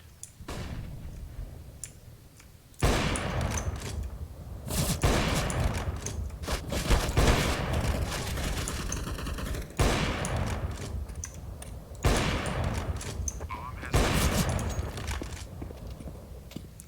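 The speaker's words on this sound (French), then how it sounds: "Throwing a grenade." Video game gunfire and blasts from a first-person shooter, with a quieter opening followed by repeated loud bursts of rapid shots and explosive hits starting around three seconds, continuing in dense waves through the rest of the clip.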